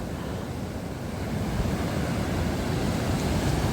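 Stormy sea waves roll and crash at Odesa, a steady loud roar of surf and wind with no voices, building slightly partway through.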